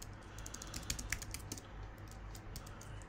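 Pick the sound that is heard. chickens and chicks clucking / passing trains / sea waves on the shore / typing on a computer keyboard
typing on a computer keyboard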